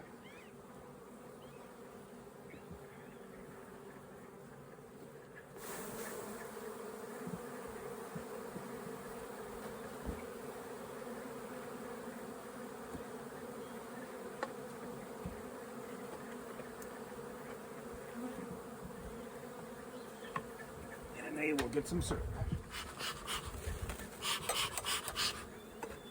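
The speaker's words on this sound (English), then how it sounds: "Now this is just a couple frames of bees." Honey bees buzzing steadily on a couple of hive frames, a continuous close drone that thickens partway through, with someone speaking briefly near the end.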